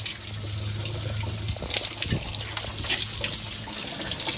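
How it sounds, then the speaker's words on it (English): Ordinary water from an outside spigot rinses out a fuel tank being cleaned of decades-old gas varnish, a close, continuous splashing gush with hissing spray and irregular sloshing. "just with regular water, not hot water from the tank, just regular water from the outside spigot"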